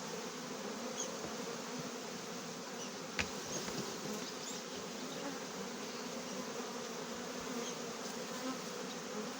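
A dense, continuous buzz of many angry honeybees swarming close by in cold weather during honey extraction, steady and unbroken throughout with no talking.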